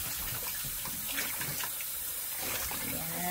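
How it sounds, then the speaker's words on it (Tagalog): Milkfish (bangus) is rinsed under a running tap at a sink, with water splashing steadily and moderately loud. Gurgling and clinking come and go over the continuous flow, and nobody speaks. "Hugasan muna natin itong bangos natin."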